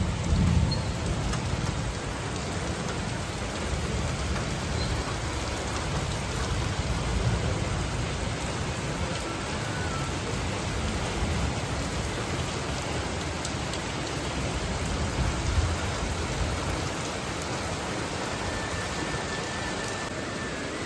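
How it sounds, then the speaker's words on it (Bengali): Heavy rain pours outdoors during a thunderstorm, a loud, dense and unbroken roar of falling water over a low rumbling undertone that lasts the whole stretch, with no voices. "বাইরে কত বৃষ্টি পড়ছে বিদ্যুৎ চমকাচ্ছে"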